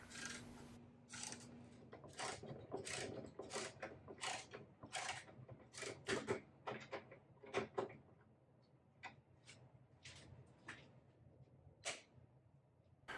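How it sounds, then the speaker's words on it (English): A socket wrench ratchets to tension the rollers of an LMI side bender while bending walnut acoustic guitar sides, giving a run of quick, close clicking and rasping bursts with faint mechanical rubbing between them. "I'm just using a socket wrench here to add a little bit of a tension to each of the rollers"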